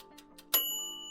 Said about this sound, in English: Here's another bell sound that I can throw in the mix for you guys too